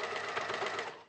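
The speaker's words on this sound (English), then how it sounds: "so I'm just going to pop that under to start sewing" A sewing machine stitching fabric with differential feed set at 1 and stitch length about 3, a steady fast whirring buzz at close range that tails off at the end.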